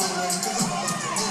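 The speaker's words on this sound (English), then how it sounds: "the Colorado College fans are booing" Colorado College fans in a women's basketball arena during a timeout in an NCAA SCAC championship semifinal, a dense, steady crowd roar of booing and jeers filling the gym, close and continuous without a break.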